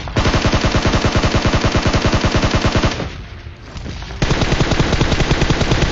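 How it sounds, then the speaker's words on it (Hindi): Rapid automatic gunfire in the video game PUBG rattles in dense, loud bursts, pauses briefly, then resumes with steady repeated shots. "मेरे राइट साइड से कुछ फायरिंग की आवाज़ आती है"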